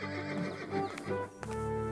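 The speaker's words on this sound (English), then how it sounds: "You have bought the finest horse in my stable." A horse in a stable whinnies over continuous background music, with a few hoof clops and brief sharp knocks, close and moderately loud throughout.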